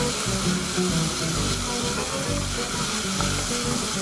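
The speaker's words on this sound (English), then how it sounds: "So then we're going to give this a stir." Beef stroganoff sizzles steadily in a hot pan as it is stirred, a constant close frying hiss with soft scraping movement underneath and no talking.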